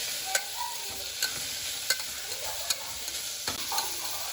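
Chopped onions and green chillies sauté in a pan, a soft sizzle running throughout with a few light stirring clinks and scrapes, fairly quiet and with no voices.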